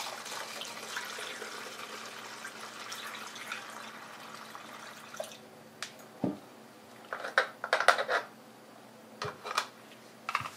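Homemade liquid insecticide poured through a funnel into a container: a steady, quiet trickling pour that gives way to a few separate splashes, drips and small knocks.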